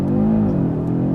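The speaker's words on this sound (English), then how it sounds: "Before you drive, I'd like to do a launch control." A 2025 Audi RS3 holds a steady, loud engine drone with rising harmonics at a launch-control start, a brief close mechanical roar with no talk.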